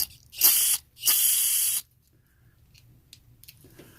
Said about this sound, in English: Sitting there spraying the other check valve I pulled out.